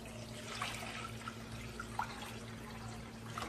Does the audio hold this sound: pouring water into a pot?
yes